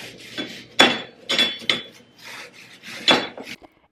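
Someone scrubs a kitchen item clean by hand in a series of rough, close rubbing strokes that come in uneven bursts, with short pauses between passes.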